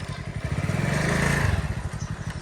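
A motorcycle engine sputters to life and idles with a chugging, revving rumble close by, pulsing unevenly toward the end.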